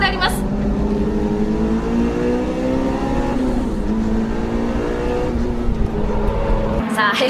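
Racing cars, among them a Honda CRX, howl through a hairpin during a Japanese race, engines revving and shifting in rising and falling tones at close range, with a commentator talking over the loud, constant noise.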